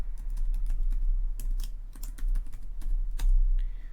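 Rapid, uneven keystrokes on a computer keyboard as a password is typed at a terminal, close and clear with no voices, the clicks coming in short bursts with brief pauses.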